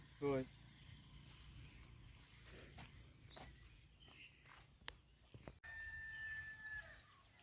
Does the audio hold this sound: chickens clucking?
yes